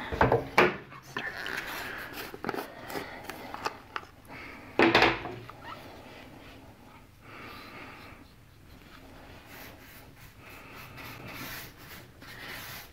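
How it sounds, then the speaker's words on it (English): A wooden drawer is worked out of a piece of furniture with rubbing, sliding scrapes and a couple of louder knocks early on, followed by quieter handling noises. "I'm going to take out this drawer if I can and set it aside."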